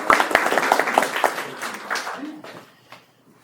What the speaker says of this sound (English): Can we clap now?